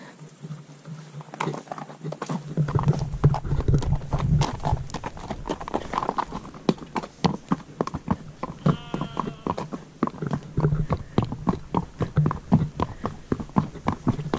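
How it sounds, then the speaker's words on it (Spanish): Horses in the Picos de Europa mountains near Sotres, Asturias, with a steady run of sharp hoof clip-clops and pattering steps, close and continuous, and faint calls in the background. "Tenemos ahí arriba caballos que están llamando"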